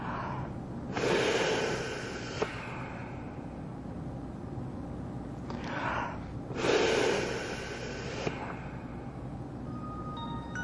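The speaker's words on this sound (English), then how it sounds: "continue the rescue breathing sequence." Rescue breaths are given during a CPR first-aid demonstration. Two separate breathy exhalation bursts, each lasting about a second or two, sit apart over a steady low background hiss.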